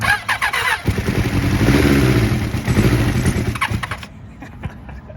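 A 1990 Suzuki Katana GSX750F motorcycle engine catches and runs, a loud, steady idle with a burst of throttle, then cuts off abruptly near the end, leaving faint background noise.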